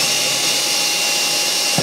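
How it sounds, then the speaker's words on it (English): A power drill whirs continuously at close range for under two seconds, boring a tiny hole during a washing machine conversion, loud and steady with no talk. "I'm just going to drill a little tiny bit."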